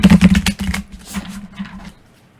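Tarot cards are shuffled close up in a quick burst of crisp riffling flutters that taper off into a few softer shuffles and then quiet.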